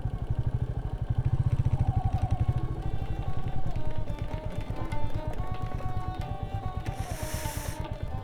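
A motorcycle's engine runs with a steady, fast-pulsing putter near a lakeside wedding venue, loud and continuous, with a brief hissy burst near the end as the bike slows to park.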